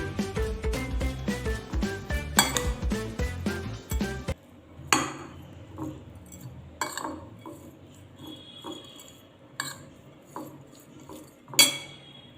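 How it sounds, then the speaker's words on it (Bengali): Pomelo segments mashed in a bowl with salt, sugar, chaat masala and kasundi, giving a dense run of clattering utensil-on-bowl clinks at first, then sparse, scattered knocks and clinks close by. "এবার আমি লেবুটা ভালো করে মাখিয়ে নেব।"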